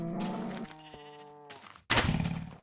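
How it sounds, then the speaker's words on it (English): Sheep in Minecraft bleat in a couple of drawn-out, wavering calls, close and clear, followed by a louder bleat near the end, with no talk over them. "Guys, I think I saw a sheep."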